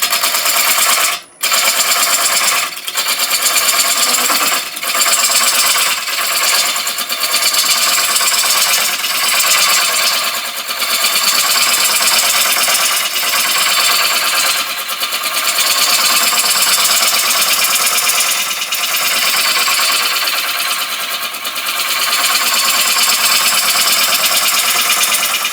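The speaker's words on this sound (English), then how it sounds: "we'll get some rough shaping to the outside of the bowl" A wood lathe rough-shapes the outside of a bowl with a steady, loud, dense cutting roar that runs continuously at close range. Brief dips and scraping catches interrupt it now and then.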